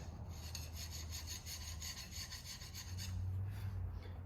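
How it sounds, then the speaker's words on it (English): A carbide scraper drawn over the cylinder head gasket surface of a Shelby Dodge Daytona engine, giving a steady, soft, rapid rasping scrape close by with no talk. "take my carbide scraper here and just kind of prep this gasket surface"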